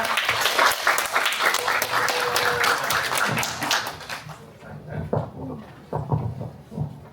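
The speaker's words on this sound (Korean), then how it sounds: "큰 박수로 맞이해 주시기 바랍니다" An audience at a seminar bursts into dense applause that fills the room, then thins out into scattered claps and fades away.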